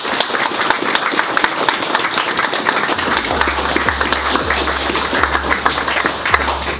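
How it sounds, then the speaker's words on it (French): Steady applause from a crowd clapping for André fills the space at a moderate level, a continuous patter of hands with a low rhythmic thumping entering midway. "faut applaudir André"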